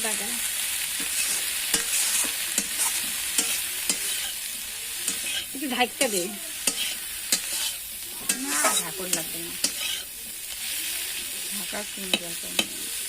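Pasta sizzles steadily in a hot pan while a utensil scrapes and clinks against it in irregular stirring strokes, close by, with no talking.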